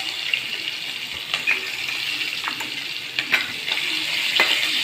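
Onions frying in the same oil used for fish, a steady close sizzle with occasional stirring clicks and scrapes in the pan, no voices.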